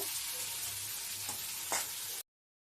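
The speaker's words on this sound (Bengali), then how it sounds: "আলু বেগুন পেঁয়াজ সবগুলো দিয়ে আমি ভালো করে ভেজে নেব" Potatoes, eggplant and onions frying together in a pan, a steady close sizzle with a couple of faint stirring scrapes, no voices.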